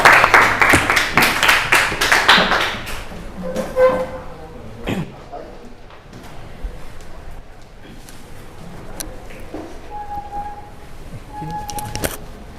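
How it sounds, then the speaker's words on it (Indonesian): A classroom of students claps for a presenting group, a brisk close burst of clapping that thins out after about three seconds, leaving scattered taps, shuffling and faint room noise. "tepuk tangan untuk kelompok 2, silakan dijelaskan"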